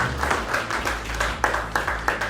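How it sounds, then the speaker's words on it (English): A crowd of entrepreneurs at an AI community meetup claps hands together, a steady rhythmic patter with a few sharper accents, fairly loud and near, carrying over a low background hum. "Can you just clap your hands?"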